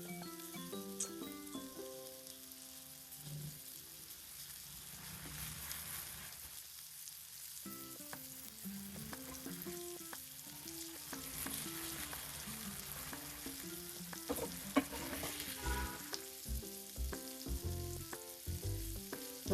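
Three mackerel (bangude) sizzle in oil on a flat tawa, a soft, continuous frying crackle heard quietly beneath background music, with no talking.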